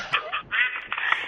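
A duck toy or duck gives a few short nasal quacks in quick bursts, fairly close and alone, with no talking over it.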